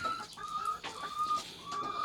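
Chickens cluck repeatedly in a steady run of short calls, close by, with farmyard background hiss and no talking.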